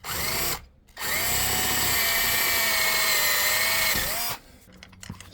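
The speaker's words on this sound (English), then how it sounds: "use that same drill bit that I just used to drill out all these existing holes" A power drill drills out holes during a tiny-home trailer rebuild, loud and close, a brief spin, a short pause, then one sustained whine of about three seconds before cutting off.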